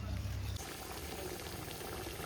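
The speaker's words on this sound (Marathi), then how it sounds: "तर मित्रांनो आता आपण पाणी टाकलेलं आहे त्यात." Water goes into a pot of chicken curry on a wood-fired clay stove, making a steady, close bubbling and rushing liquid sound that runs continuously through the short moment without speech.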